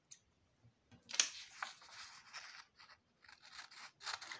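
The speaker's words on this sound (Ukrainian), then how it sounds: "Зараз я їх виріжу ножицями." Scissors snip through colored paper while cutting out the parts of a bird appliqué craft, giving a few short crisp cuts and rustles, close and quiet, with no talking.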